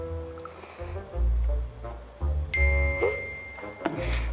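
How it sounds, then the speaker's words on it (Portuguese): A phone notification chime rings out as a short, bright ding partway through, over a muffled low background of room noise and movement. "já chegou a notificação."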